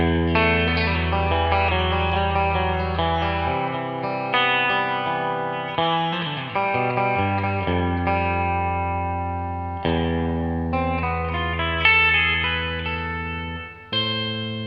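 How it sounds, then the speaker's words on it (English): Electric guitar chords and picked notes played through a Boss FRV-1 '63 Fender Reverb pedal emulating a 1963 Deluxe spring reverb tank, splashy, each strum ringing out with a wet, echoing tail. "they used their Cosm technology to emulate the sound of a 1963 Deluxe reverb tank"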